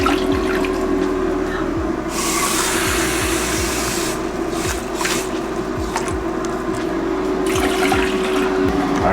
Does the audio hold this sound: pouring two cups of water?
yes